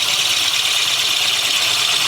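A steady, loud, high-pitched drilling noise from a pneumatic lathe drill press, with a continuous grinding hiss that runs unbroken throughout, with no voices.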